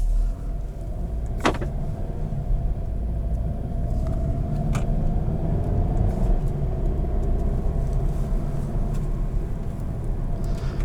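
A 2019 Volkswagen Golf Alltrack with a DSG dual-clutch transmission drives along, heard from inside as a steady low engine and road rumble with a few brief clicks and knocks, no voices.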